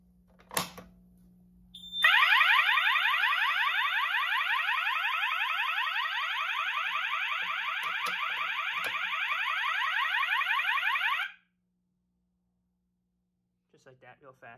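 Security zone alarm on a Simplex 4100U fire alarm panel blares as a loud, rapidly warbling electronic tone for about nine seconds before cutting off, with brief handling noise before and after.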